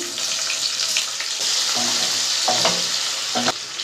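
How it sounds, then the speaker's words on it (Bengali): Chopped onions fry in oil with whole cinnamon, cloves and cardamom for a restaurant-style yogurt chicken, giving a loud, continuous, close sizzle with a few stirring scrapes and no speech. "দারচিনি লবঙ্গ এলাচ দিয়ে দেবো কেটে রাখা পেঁয়াজগুলো"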